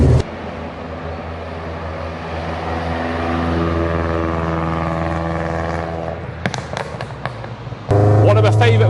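A one-off Mk2 Golf GTI build pulls hard in second gear, its engine note rising steadily and loud for about six seconds before cutting off into a few clicks and a short fresh drone.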